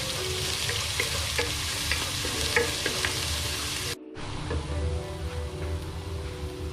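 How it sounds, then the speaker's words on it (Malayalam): Curry leaves crackle and sizzle in hot oil for a Kerala-style duck curry, a loud, continuous frying hiss with sharp pops, briefly cut off and then resuming. "ഇതിലേക്ക് നമ്മൾ കറിവേപ്പില ആഡ് ചെയ്യുന്നുണ്ട്."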